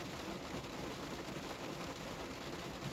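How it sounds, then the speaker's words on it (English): Rain falling outside a car at night, a faint, steady patter and hiss on the car body that runs continuously without any voices. "it's raining outside the car, as I'm sure you can tell"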